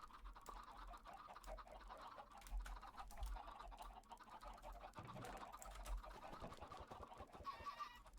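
Busy game chicken farm in Garden of Parasites, with a dense, continuous clucking chatter from many chickens throughout, packed with short bursts and a brief high warble near the end.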